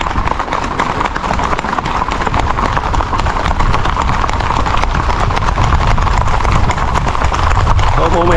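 Horse hooves clip-clopping steadily at a walking pace as the horse carries riders around an island beach, continuous and loud under dense background noise.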